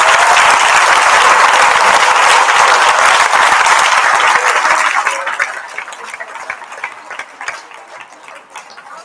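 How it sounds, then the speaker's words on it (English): An audience claps for preschool and kindergarten children leaving a school prizegiving, dense steady applause that holds strongly for about five seconds, then thins into scattered, fading claps. "Can we give them a round of applause as they leave?"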